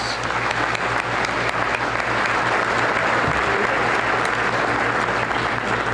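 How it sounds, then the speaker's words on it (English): An awards ceremony audience at the 30th Misty Awards claps steadily and loudly throughout, a dense sustained burst of applause with no break, under a faint low hum. "How about a nice round of applause?"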